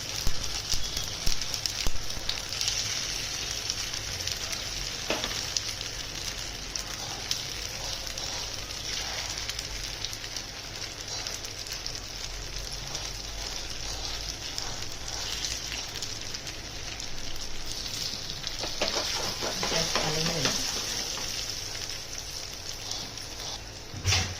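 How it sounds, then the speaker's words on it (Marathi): Semolina khandavi pieces sizzle steadily in a tempering of hot oil, a continuous bright frying crackle with a few stronger pops and stirring scrapes, close and at an even level throughout. "आणि आपण याच्यातच आता हे खांडवी ठेवणार आहोत आपण तडका द्यायला."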